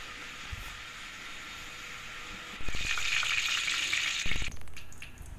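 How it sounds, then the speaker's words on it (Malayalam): Quiet background hiss gives way to a loud, steady sizzle of jalebi batter piped by hand into hot oil in a heavy uruli pot, with small pops and crackles, then easing slightly. "ഇത് ഉരുളിയിലെ തിളച്ച എണ്ണയിലേക്ക് കൈകൊണ്ട് ജിലേബിയുടെ ആകൃതിയിൽ ചുറ്റിച്ച് ഒഴിക്കുക"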